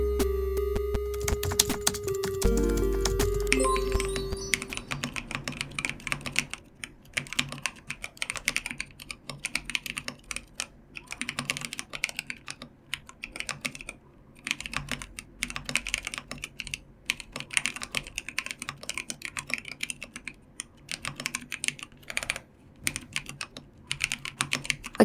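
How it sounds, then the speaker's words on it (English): Steady clicky keystrokes from a Preonic mechanical keyboard, typed in quick uneven bursts close to the mic, with a brief tonal hum at the start. "Now it looks good, but will it sound good?"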